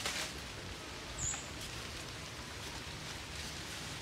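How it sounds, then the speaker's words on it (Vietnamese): Light drizzle patters softly and evenly in the Mekong Delta countryside, a faint, steady hiss with a few scattered drops and a brief chirp in the background. "Mưa bắt đầu lâm râm nha các nhà."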